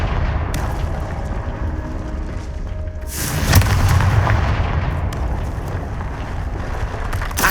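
Confringo fire spells blast in the Hogwarts Legacy video game, a steady roaring rumble that swells into a loud, booming burst midway and then settles into a rushing, wind-like roar.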